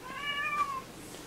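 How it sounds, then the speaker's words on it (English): A house cat gives a single short, clear meow nearby in a quiet room, with no talking. "my cat's come to see me"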